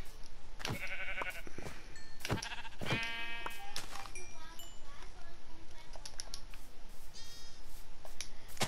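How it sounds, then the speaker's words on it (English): Sheep in a Minecraft-style block game bleat repeatedly in short, close calls, interspersed with clicks and keyboard tapping. "And we got some more sheep."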